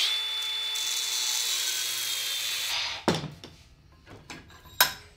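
A power cutting tool slices through a steel tie rod to shorten it for a lawn mower build with a Suzuki GS450 engine: a loud, steady, high-pitched whine for about three seconds, then it stops, followed by metallic clanks and knocks.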